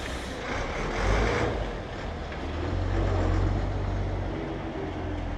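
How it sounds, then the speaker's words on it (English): A bus with air brakes gives a loud, steady broadband rumble with a hissing rush near the start, and the engine drone swells and eases throughout with no voices. "check out this sweet bus"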